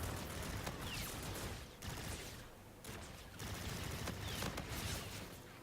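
Submachine gunfire in the shooter game Infinite Warfare comes in dense, rapid bursts with short pauses, sustained and quiet in the mix.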